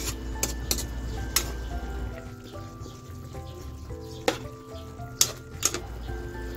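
A pot of pork caldereta simmers steadily with a soft, continuous bubbling hiss, broken by a few sharp clicks and taps, fairly quiet and without any voices.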